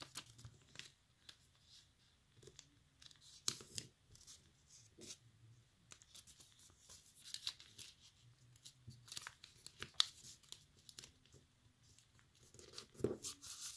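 Paper being folded and creased into an origami inflatable bunny, with soft intermittent crinkles and rustles, close and quiet, and no talking.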